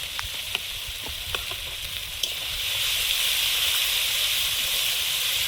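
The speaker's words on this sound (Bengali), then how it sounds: "মশলাটা ভালোভাবে কষিয়ে নেবো যতক্ষণ না তেল ছাড়ে" Ground spice paste with turmeric and salt frying in oil for a fish curry, a steady bright sizzle with a few scraping stirs early on, swelling into a louder continuous hiss.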